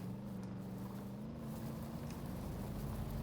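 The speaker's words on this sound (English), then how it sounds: "Listen to that engine." A vehicle engine in a video game drones steadily at low pitch, heard at moderate level and unbroken over the whole stretch, with no voices.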